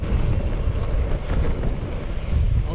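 Wind rushes past a cyclist's microphone on an ultra-distance ride, a steady low buffeting roar that stays loud and continuous.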